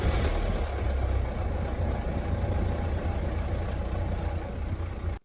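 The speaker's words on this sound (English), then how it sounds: "A worn timing chain can make a noticeable rattling noise at engine start like this." A BMW 3 Series F30 diesel engine with a worn timing chain rattles at start, a steady, close mechanical clatter throughout, then cuts off abruptly at the end.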